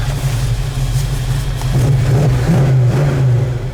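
A 1964 Chevelle restomod engine rumbles loudly and revs up and down continuously, close by, with a deep throaty tone throughout.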